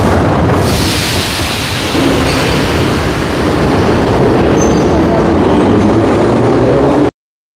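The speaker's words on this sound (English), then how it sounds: "The train arrived, but the noise will start again soon" A loud, roaring rumble of a train fills the clip, constant and overwhelming, then cuts off abruptly at the end.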